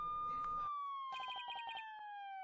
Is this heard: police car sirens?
yes